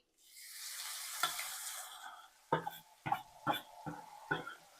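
Paneer drops into hot ghee and sets off a bright sizzling hiss, followed by several sharp scrapes and knocks of stirring against the pan.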